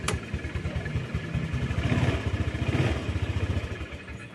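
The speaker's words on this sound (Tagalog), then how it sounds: "Ayun, kinakapos pa rin kahit tinutulungan na natin ng silinyador." A Honda Click scooter engine running rough while throttled, close up: a steady, uneven pulsing putter that sputters and struggles as if starved, without any talking.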